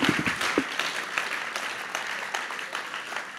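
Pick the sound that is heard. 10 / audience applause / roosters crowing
audience applause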